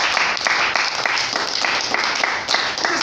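A church congregation claps loudly and continuously during a French-language sermon on acacia wood, the dense applause holding steady from start to finish with faint crowd sounds underneath.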